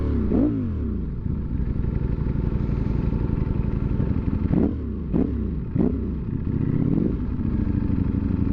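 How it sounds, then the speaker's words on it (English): A heavy BMW R 1300 GS Adventure motorcycle engine drones steadily up close, its pitch sweeping down several times as it passes and shifts, with no talking. "That's a 1300 GSA, massive motorcycle, beautiful machine."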